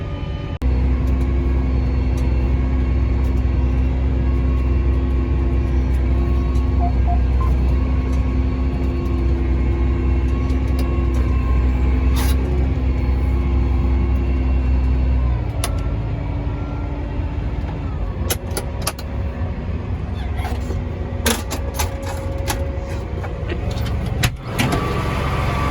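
A farm tractor is driven along after a repair, giving a loud, steady engine drone and cab rumble with occasional clicks and knocks, the engine tone dropping partway through.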